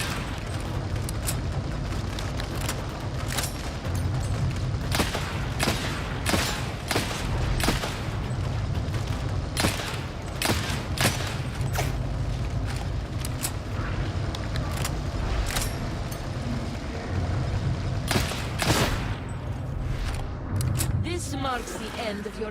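Enemy ranged gunfire in a video game, a dense run of sharp, loud shot cracks and bursts scattered irregularly across a continuous rumbling battle backdrop, with a spoken voice over the action.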